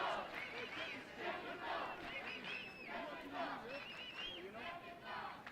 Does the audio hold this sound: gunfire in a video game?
no